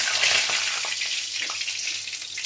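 Two bay leaves sizzle in hot oil for a tempering, a bright, steady hiss close by with a few soft crackles, and no talking.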